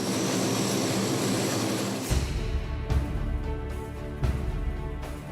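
C-130 military transport aircraft engines droning with a steady propeller roar, shifting in tone partway through as the engine noise changes.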